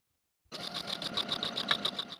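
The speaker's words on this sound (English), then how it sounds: "And now I'm ready to sew." A sewing machine stitches buttonholes on a linen jumpsuit, starting abruptly and running in a steady, rapid rhythmic whir with regular stitch pulses, close and alone.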